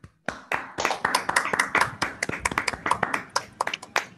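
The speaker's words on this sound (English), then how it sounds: "I want to give a round of applause to all the speakers" Small audience at an online cosmology conference claps for the speakers: sparse, distinct individual hand claps in an uneven rhythm, close and fairly quiet, with no talk.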